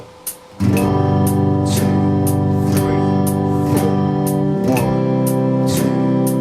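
Chords strummed four crotchets per bar, a steady run of evenly spaced struck chords ringing close and loud, following a brief sound before the playing begins.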